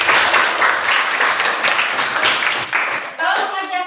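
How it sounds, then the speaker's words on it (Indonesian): Students in a classroom break into applause, a dense burst of clapping that carries on steadily and then tapers off near the end, with some voices mixed in. "tepuk tangan untuk Rasti"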